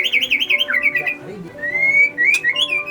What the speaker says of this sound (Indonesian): yaitu burung murai batu.